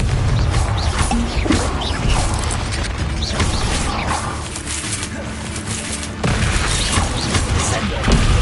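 Spell explosions from a Harry Potter style video game, Confringo and Bombarda blasts, giving dense, continuous booming crashes with mechanical clatter, loud and close throughout with a brief lull near the middle.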